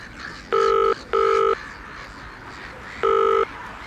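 Telephone keypad tones dialing out: two clear electronic beeps in quick succession, a pause, then a third beep, loud and near against faint background hiss.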